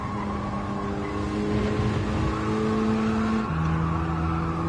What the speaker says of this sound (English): you feel the tires sliding sometimes